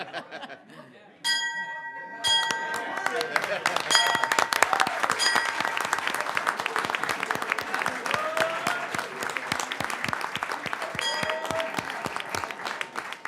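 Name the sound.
bell ringing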